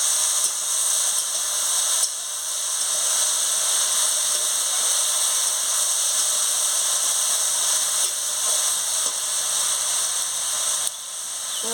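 Vegetables for a Bengali khasla greens chorchori sizzle steadily as they are fried and stirred in a pan, a continuous close hiss that dips briefly now and then, with no voices.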